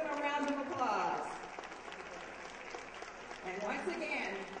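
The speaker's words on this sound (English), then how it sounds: "Give them a round of applause." Moderate applause from an audience honoring the judges at a Canton Idol singing competition, heard under and between talking voices, with the clapping swelling briefly near the start and again toward the end.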